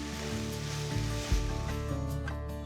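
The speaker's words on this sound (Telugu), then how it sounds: "కూరగాయలను రెండు నిమిషాల పాటు కలుపుతూ ఉండాలి" Carrots, beans and drumstick sticks are stirred in a pan for a vegetable curry, giving a soft sizzle with low clunks and scrapes of the utensil against the pan.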